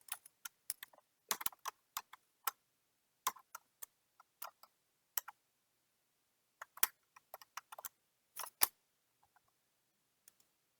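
Sporadic soft key clicks from a computer keyboard as a password is typed, coming in quick bursts and single taps with pauses between, close and quiet, with no talking.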